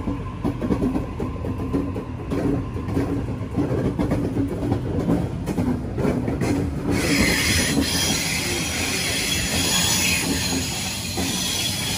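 A passenger train pulls away from the platform at Beecroft station, its wheels squealing and carriages rumbling steadily at close range, growing brighter and louder partway through, with no talk.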